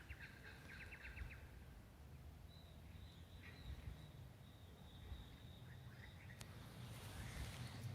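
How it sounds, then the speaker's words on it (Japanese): Birds calling around a kangaroo enclosure in daytime: a quick run of chirps at the start, then thin drawn-out whistles and scattered calls over a low, steady outdoor rumble, faint and distant, with no voices. "鳥の声でみんな起きた。"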